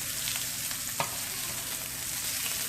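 Sausage fries in a pan at medium-low heat, giving a steady, dense sizzle with tiny pops, constant and close with no talking.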